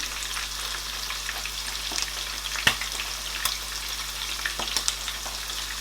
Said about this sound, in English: I am going to add oil in the pan.